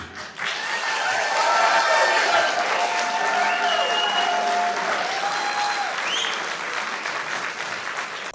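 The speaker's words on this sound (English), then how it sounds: "Just round of applause to this man" Sustained applause from a crowd at a heated community meeting, many hands clapping steadily for several seconds while voices call out and cheer over it.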